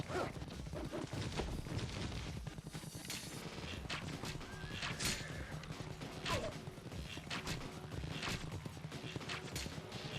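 Horses whinny and hooves clatter in a video game battle, mixed with crashes and weapon impacts in a busy, continuous soundscape of fairly constant loudness.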